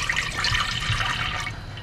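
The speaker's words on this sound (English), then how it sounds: "on a medium heat we're gonna pour our cold water into the pan" Cold water poured from a container into a pan on the stove, a steady splashing gush lasting nearly two seconds at close range, tapering slightly at the end.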